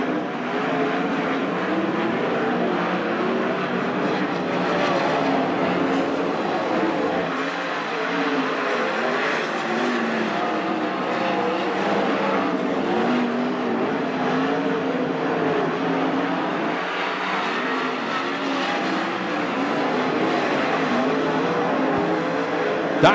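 410 sprint cars racing through heat laps at Attica Raceway Park dirt oval, a continuous loud roar of high-revving engines swelling and fading as the pack circles, heard from the stands without talk.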